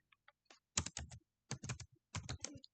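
Computer keyboard keys are typed while writing HTML form code, in a few light taps and then three quick clustered bursts of clicks, close and quiet with no voice.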